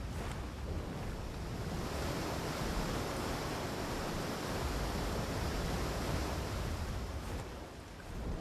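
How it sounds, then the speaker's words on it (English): Several waterfalls pouring in a cave area of the ARK Valguero game map, a steady, dense rushing roar of falling water that holds at constant loudness throughout, with no voices. "The interesting area where there's 3 waterfalls."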